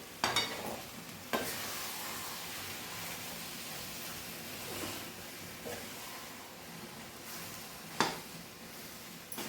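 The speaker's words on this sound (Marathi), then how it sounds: "गूळ मिक्स करून घ्यायचा असा पुरणामध्ये" Jaggery being stirred into cooked lentil puran filling, a steady low scraping and squelching stir with a few sharper clanks of a spoon against the pot, fairly faint and without talk.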